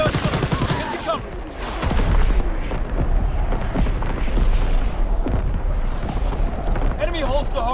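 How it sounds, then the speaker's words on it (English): Incoming enemy artillery in online Call of Duty WWII play: loud, close booms and rolling explosions mixed with bursts of gunfire, continuous for several seconds, while voices shout in the battle. "Incoming enemy artillery! Get to cover!"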